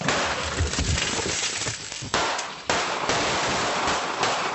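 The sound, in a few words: gunshots fired through a glass door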